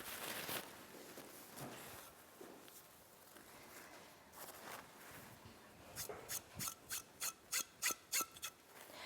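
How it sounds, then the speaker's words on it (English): A foot rasp scrapes over the skin of a foot during a pedicure, with a tissue held underneath. Soft, slow rubbing strokes come first, then a quick run of about eight crisp, rhythmic rasping strokes, all close and quiet, with no talking. "And rasp with your tissue underneath."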